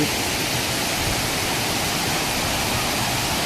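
Tad Wang Ma waterfall in Laos, dropping roughly 50 to 60 metres, pours with a dense, constant roar, loud and near, with no voices over it.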